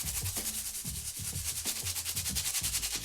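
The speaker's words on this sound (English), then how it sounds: "You take your stiff bristle brush and just kind of go to town on the outsole." A stiff bristle brush scrubbing the rubber outsole of a sneaker with cleaning solution, quick rhythmic back-and-forth strokes, close and fairly quiet, with no talking.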